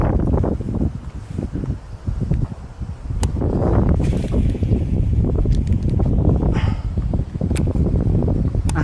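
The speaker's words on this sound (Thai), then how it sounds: "โอ้ลมแรงลมแรง" Strong wind blows outdoors, roaring and buffeting a nearby microphone in a dense, continuous rush with gusty swells and faint rustling throughout.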